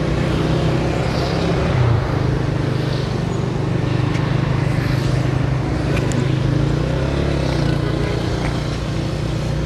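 Heavy road traffic rumbles steadily along the road from Ugoki toward Sialkot, with cars, motorcycles and buses blending into a loud, continuous roar and occasional higher engine whines rising above it.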